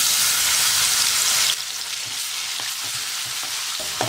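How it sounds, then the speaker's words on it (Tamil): Ginger garlic paste hits hot oil with cumin seeds and fries with a loud, dense sizzle that drops to a quieter steady crackle, with a few light stirring clinks near the end. "இஞ்சி பூண்டு பேஸ்ட் போட்டுக்கலாம்."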